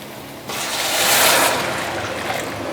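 Broth pours into a pot for imitation shark fin soup, a steady broad splashing wash that swells in the middle and then settles into a continuous liquid rush, close and fairly loud, with no talking.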